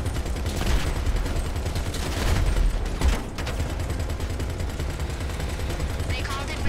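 A vehicle-mounted gun fires in GTA V Online's amphibious Technical Aqua, sustained loud automatic bursts packed tightly together with heavier thumps around the middle, over engine and water noise with players talking.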